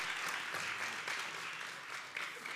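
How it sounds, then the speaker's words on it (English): Members at a congregation meeting clap together after officers and board members are announced, a soft, continuous patter of applause heard alone and somewhat distant. "So we'll pause and clap."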